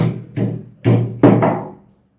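Almond or mustard seeds wrapped in folded paper being crushed, giving four firm thumping knocks at irregular intervals, the last one longer and fading out, close and without speech.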